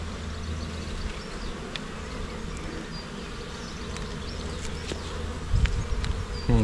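Honeybees buzz steadily around an open split-box hive during an inspection, a dense close swarm hum with individual bees zipping past the microphone and a few louder handling bumps near the end.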